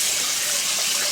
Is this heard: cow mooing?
no